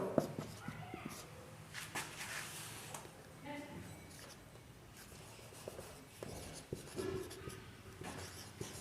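Marker or chalk strokes scratch across a classroom board as numbers are written, soft intermittent squeaks and taps in short bursts, with someone speaking quietly alongside.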